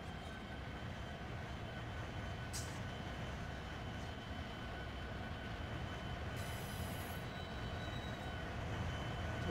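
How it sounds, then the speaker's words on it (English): A freight train in the Run 8 rail simulator rolling past a switch, a low continuous rumble of wheels and wagons that builds slightly, with brief high squeals from the rails. "So we'll bring the train towards us here past that switch."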